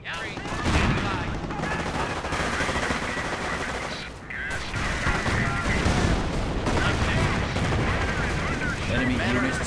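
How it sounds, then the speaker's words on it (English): Heavy gunfire and artillery fire in Company of Heroes, a dense, loud barrage of rifle and machine-gun bursts with booming blasts, continuous across the whole stretch with a brief dip midway and voices mixed in. "Enemy units taking heavy fire."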